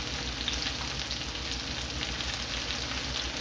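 Ginger and green onions stir-frying in a very hot pan, a steady dense sizzle and crackle that holds evenly loud throughout with no talking.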